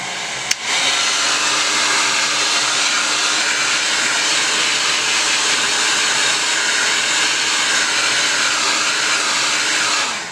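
A hair dryer starts with a click and blows steadily with a loud, continuous whooshing roar for about ten seconds; the dryer was shorting out.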